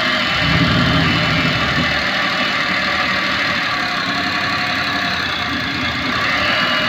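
Maruti 800 engine idling loud and close with steady vibration and a faint knocking rattle from a faulty gearbox bearing, running continuously without pause and no voices.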